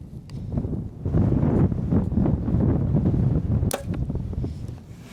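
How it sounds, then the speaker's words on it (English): Wind gusts buffet the microphone in heavy low rumbling waves during outdoor 3D archery, swelling and easing, with a sharp whoosh-snap near the end. "We got some good gusts on this one."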